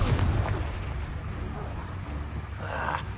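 In the video game Hogwarts Legacy, a Confringo blast spell goes off as a booming, explosive burst that sounds like artillery fire. It opens loud and heavy, then rumbles on with a second swell near the end.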